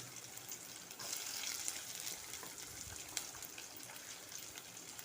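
Onion, tomato, green chili and curry leaves sizzle steadily in hot oil for a tempering, a soft continuous crackle with a slightly louder burst partway through, heard alone without voices.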